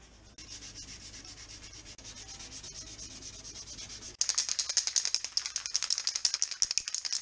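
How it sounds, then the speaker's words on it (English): Sanding rub-down of rust-cured metal on a car being prepared for painting, a steady abrasive rubbing that turns into faster, louder rasping strokes partway through, close and alone. "Time to give it a rub down and then mask everything up ready for painting."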